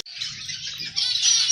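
Pet lovebirds kept in a cage chirp in a dense, continuous high twittering, steady and fairly close, with a faint low hum beneath and no voices.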